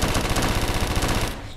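Rapid automatic gunfire in the Roblox game Da Hood, a loud, steady stream of evenly spaced shots that cuts off abruptly after about a second and a half.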